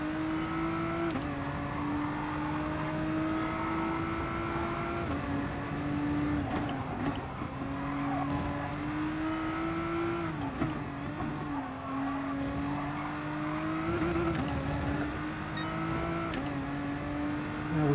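A race car in the video game Gran Turismo, a steady loud engine drone with rising and falling pitch as it brakes into corners and gently accelerates out, continuous throughout with no talk.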